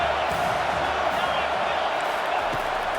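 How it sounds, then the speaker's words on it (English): Stadium crowd roaring steadily for the defense on third down at a CFL game between Texas and Florida, a dense, loud sustained wash of cheering and noise with no pauses. "Decibels rising as the crowd gets behind this defense on third down."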